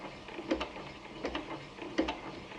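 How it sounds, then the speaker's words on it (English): A sewing machine stitches machine appliqué very slowly, giving soft mechanical clicks in three evenly spaced clusters, quiet and close, with no talking. "I really do sew this slow when I machine applique"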